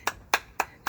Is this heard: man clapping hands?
yes